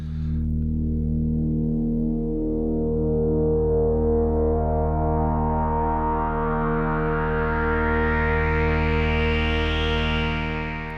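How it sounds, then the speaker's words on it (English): Trigon synthesizer with its oscillator gains turned to maximum, a loud sustained buzzy tone with subtle distortion, a slow filter sweep rising steadily through its harmonics over about ten seconds. "you can hear the drive, you can hear the difference. Subtle distortion, sounds lovely, but the resonance is killed."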